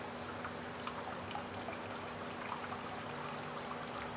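Transmission fluid pours steadily into the filler of a 2004 Chevrolet Tahoe during a transmission service, a soft continuous trickle at close range with no talking.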